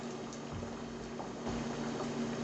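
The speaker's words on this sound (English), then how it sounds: "our asparagus has been boiling for 5 minutes" Asparagus boils in a pot of water for risotto, a soft, quiet bubbling and gurgle that swells slightly partway through.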